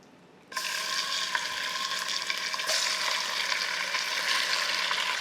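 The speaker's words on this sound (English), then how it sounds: "Start frying this pork quickly in some oil and caramel." Pork for a Vietnamese stew hits hot oil and caramel with a sudden loud sizzle after a brief quiet moment, then a steady, intense frying hiss continues.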